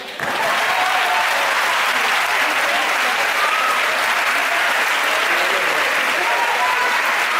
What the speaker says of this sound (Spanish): un aplauso a Lidia Carracedo.